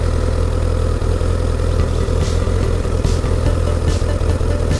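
A Honda CBR1000RR sport bike engine idles steadily nearby, a continuous low rumble with a loud, even throb and no pauses or revving.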